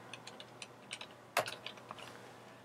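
Quick, light keystrokes on a computer keyboard while a phone number is entered into an online visitor form, a short run of scattered taps with one louder clack partway through, close and quiet with no talking.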